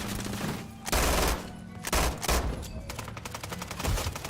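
Rapid video game gunfire in loud fusillade bursts, automatic rattles and single cracks overlapping in several surges across the stretch, with no one talking.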